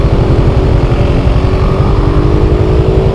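A 2018 Yamaha Fazer 250 motorcycle accelerates hard on a test ride, its engine a loud, close, steady drone with a rising pitch and no speech.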